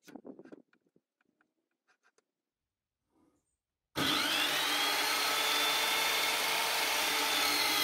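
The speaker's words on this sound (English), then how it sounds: "Now I'm marking a longer piece of timber in the same way so I can cut it to exactly fit that space." Timber being cut to fit a rabbit tractor roof: a few faint scratchy marking sounds give way to a sudden loud, continuous power-saw whine that runs steadily to the end.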